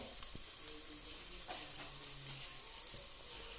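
Chilli powder sizzles as it fries with onions for a fish curry, giving a steady hiss broken by soft scraping stirs and occasional spatula knocks, close by, with no voices.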